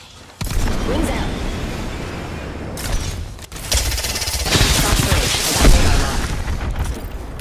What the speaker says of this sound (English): I am taking fire, friend. Firing.